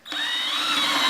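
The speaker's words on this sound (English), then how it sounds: "I'm going to simply take the 3/8 inch spade bit, and I'm going to drill down through the middle here" A power drill turns a 3/8 inch spade bit through the middle of a plastic bucket, giving a steady whirring whine that starts abruptly and holds loud and close with no talk.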